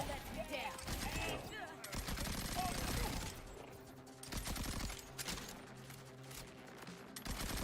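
Rapid automatic gunfire in a shooter video game: dense bursts of shots crackle through most of the stretch with brief gaps, mixed with game sound effects and a voice talking over the action.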